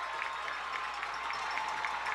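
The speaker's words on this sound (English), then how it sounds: "Fairview and their crowd are starting to amp up the noise" Fairview fans in the stands at a high school football game, a continuous moderate roar of crowd noise with scattered clapping and cheering, heard from some distance.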